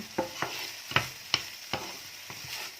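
Thinly sliced bacon sizzles in a pan while being stirred and tossed until golden, with about eight distinct scraping strokes over a steady frying hiss, close up with no talking.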